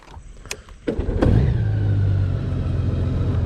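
A motorcycle-type vehicle pulling out of a gravel parking lot, a couple of clicks and thuds, then the engine revving up and holding a steady, close drone.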